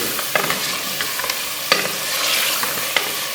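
Mutton fries with tomatoes in a pot for aloo gosht, a steady close sizzle overlaid by repeated scraping and clinking of a stirring spoon, one firmer knock standing out midway.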